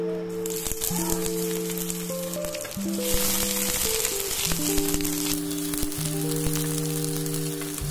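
Black cumin, a dried red chili and chopped onion crackle and sizzle in hot mustard oil, a steady close spatter running throughout beneath a sustained musical background.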